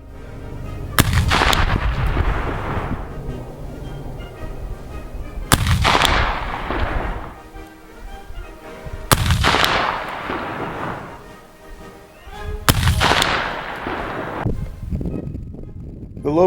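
Four loud, sharp black-powder shots from a P58 Enfield naval rifle at an outdoor shooting contest, spaced a few seconds apart, each cracking hard and trailing off in a long rolling echo.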